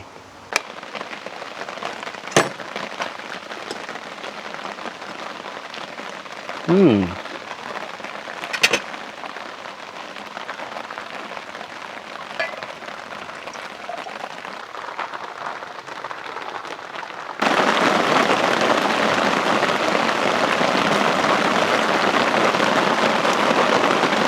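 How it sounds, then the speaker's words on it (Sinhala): Steady rain pours down on a tree-surrounded campsite on Monte Rosa, Italy, a dense hiss that swells much louder near the end, with a couple of sharp knocks and a brief low rumble partway through. "සුපිරි වැස්සක් තියෙන්නේ"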